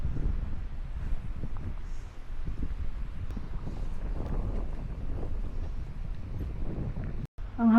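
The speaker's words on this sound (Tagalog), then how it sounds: "Ang hangin." Wind blusters across the microphone as a bike rolls along near Lake Kawaguchi with Mount Fuji in view, a steady low roar that continues for several seconds. A brief voice comes in at the very end.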